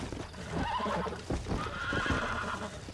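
Horse neighing and whinnying in the video game Red Dead Redemption, a loud, close, drawn-out call with snorting and clip-clop hooves mixed in, filling the whole stretch with no talk over it.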